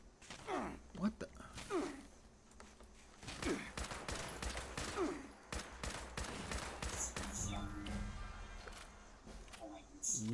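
Bursts of automatic gunfire strike a player's camp in Fallout 76, cracking in quick volleys at moderate distance while a voice talks and gasps over them.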